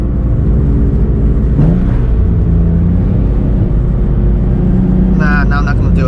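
A Nissan 350Z engine drones loud and close from inside the cabin through a quick downshift, a short blip of revs rising over the steady road rumble, with a person talking over it.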